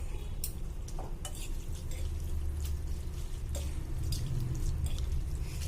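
Korean noodles being stirred in water in a pan, a steady wet bubbling and simmering bed with repeated soft scraping strokes of the utensil, close and continuous with no talk.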